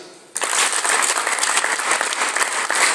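Sudden burst of loud applause from a crowd of villagers at a community-level gathering, dense and steady clapping that continues without a break.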